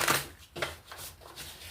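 Oracle cards from an Urban Crow Oracle deck being shuffled by hand, soft papery riffling bursts in an uneven rhythm, quiet and close with no talking.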